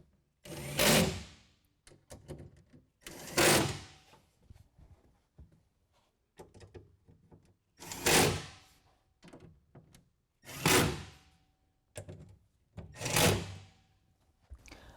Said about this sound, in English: go ahead and tighten it down with a T30